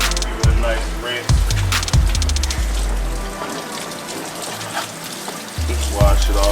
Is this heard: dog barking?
no